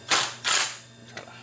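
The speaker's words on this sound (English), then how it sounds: "let's run these screws a little bit further in" A power drill or driver runs screws in further during the assembly of a coin-operated palm reader machine, two short whirring bursts and a faint third, close and clear with no talk.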